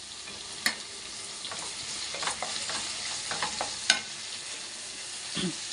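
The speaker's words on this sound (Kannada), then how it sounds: "ಇದೆಲ್ಲ ಒಂದು ಸ್ವಲ್ಪ ಫ್ರೈ ಆಗಲಿ ಫ್ರೆಂಡ್ಸ್" Onions and tomatoes fry in a pan for a bitter gourd masala, a steady soft sizzle with occasional sharp scrapes and taps of a spoon stirring against the pan.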